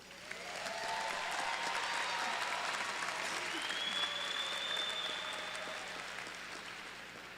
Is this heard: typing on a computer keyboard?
no